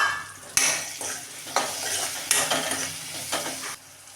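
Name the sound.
brinjals frying in a pan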